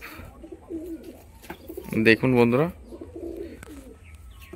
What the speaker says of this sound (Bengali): এই হচ্ছে পায়রার বাচ্চার গেট আপ